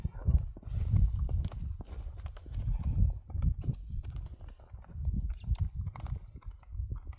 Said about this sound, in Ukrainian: Зараз подивимось, як кобила буде в русі в цій упряжі.